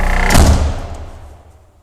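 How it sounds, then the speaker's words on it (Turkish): An indoor door is pushed shut with a single close thud, followed by a brief fading rattle, with no talking. "Kapıyı kapatıyorum."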